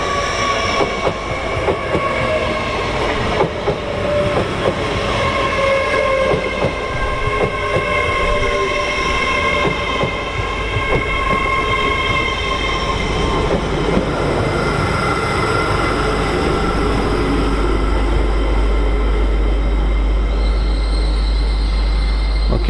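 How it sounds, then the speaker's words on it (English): An LNER Azuma class 801 train on a King's Cross to York service passes at speed, a sustained loud rushing roar with wheel clatter and a long horn-like tone, building toward the end; no talk. "here is the Azuma, LNER 801 221, working a service from King's Cross to York"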